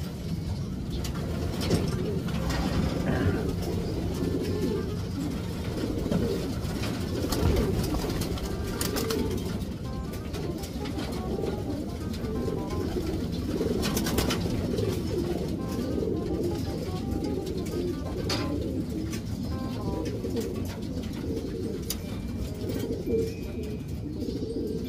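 Pigeons cooing steadily in a loft, a dense chorus of low, throaty coos that repeats over a constant murmur of many birds close by, with a few short chirps in between.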